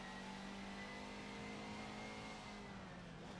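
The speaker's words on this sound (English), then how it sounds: "Did downshift twice for this corner." A race car in the iRacing sim at Brands Hatch holds a steady, droning engine note, heard faint and even with no distinct revving changes.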